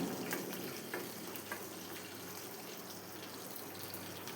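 Banana flower kootu ingredients sauté in a pan with a faint, continuous frying hiss and a few soft stirring scrapes. The sound is low and steady, with no one talking.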